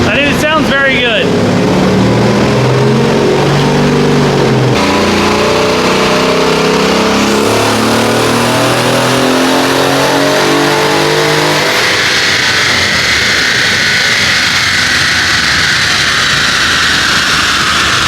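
Twin-turbo Mercedes M278 V8 in a CLS550 or E550, revving loudly and close with shifting pitch before settling into a rough, dense roar, with talk heard over it.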